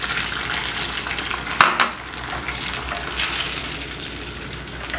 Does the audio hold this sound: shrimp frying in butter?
yes